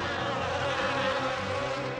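A swarm of poisonous flies invading homes fills the air with a dense, continuous buzzing drone that stays loud and steady throughout.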